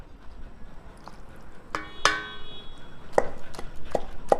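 Tomato and red chilli chutney ground in a stone mortar, with a few separate knocking and scraping strikes of the pestle spread over a few seconds, close and moderately loud, with no talking.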